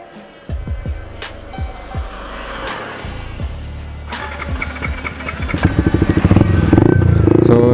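A Yamaha MT15 motorcycle engine is cranked with several starter bursts and catches, then settles into a loud, close idle that rises in pitch and strength toward the end.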